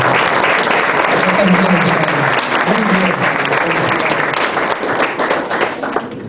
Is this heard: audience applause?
yes